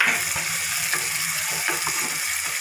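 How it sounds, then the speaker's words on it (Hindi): Water poured into tomato masala for chole hisses and sizzles loudly in a hot pan, a dense continuous crackle with a few soft stirring knocks, close up and with no voices. "ये थोड़ा पानी ऐड करेंगे हम,"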